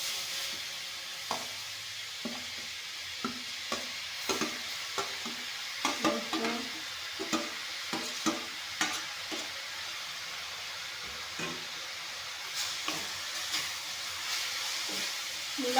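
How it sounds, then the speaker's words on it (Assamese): Chopped red radish frying in a pan with onion and chilli gives a steady, close sizzle and hiss, broken by repeated scraping and stirring strokes of a spatula. "মূলাখিনি অলপমান ভাজি ল'ম।"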